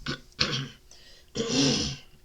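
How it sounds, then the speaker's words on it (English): Someone clears their throat twice, close and fairly loud, with a short pause between the rough, gravelly bursts. "So sorry about clearing my throat."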